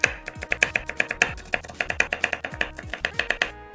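Green chillies are chopped with a knife on a board in a fast, steady run of sharp, close taps for several seconds, with no voices.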